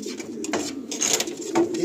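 Pigeons in a loft give soft low cooing calls, a few rounded murmuring phrases close by with light rustling between them.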